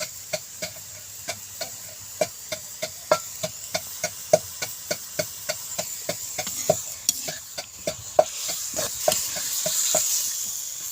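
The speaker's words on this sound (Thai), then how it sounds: "รวนเนื้อให้มันสุกประมาณนี้" Beef being stir-fried in a pan until cooked for Thai waterfall beef salad: a spatula clacks against the pan in a steady, even rhythm about twice a second over a continuous sizzle, close and fairly loud, with no talking.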